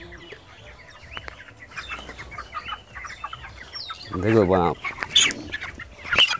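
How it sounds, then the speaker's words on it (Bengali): Broiler chickens cluck and squawk in a poultry farm shed near a feed hopper. Scattered close calls peak in a louder outburst partway through, while someone talks quietly in between. "এই যে এই মুরগিটা, এই যে হপারের কাছে যে উঠে দাঁড়ালো"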